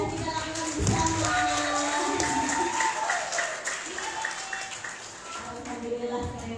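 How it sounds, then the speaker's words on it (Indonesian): An audience at a closing event for a dormitory waste-processing program applauds, steady clapping for several seconds with some voices mixed in, moderately loud and easing slightly toward the end. "Tepuk tangan untuk yang sudah kita lakukan bersama."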